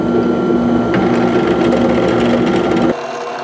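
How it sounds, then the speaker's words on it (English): A power drill runs steadily at high speed with a continuous whine while drilling a pilot hole, then abruptly stops near the end. "So I'm going to drill a pilot hole right through for all of these holes."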